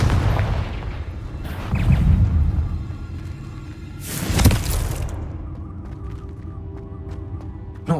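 Explosive blasts from the Confringo spell in Hogwarts Legacy, in a fight against a giant spider: a heavy booming burst early on, then a sharper, louder detonation a few seconds later, each fading into rumbling game ambience.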